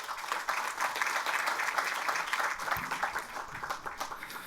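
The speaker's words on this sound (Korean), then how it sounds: "의원 여러분의 큰 박수 부탁드립니다." Assembly members in a large hall applaud steadily before a floor-leader candidate's speech, a broad, even roar of many hands clapping that holds throughout and eases slightly near the end.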